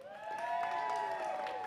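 A crowd cheers and applauds at an FTC robotics qualifier match, a sustained roar of voices with one high, held tone across the whole stretch.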